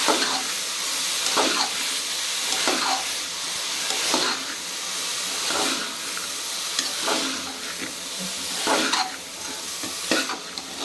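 Chopped beetroot for a masala gravy frying in a pan while being stirred, a continuous close sizzle broken by regular scraping strokes of the spoon about every second and a half.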